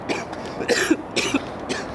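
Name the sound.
cough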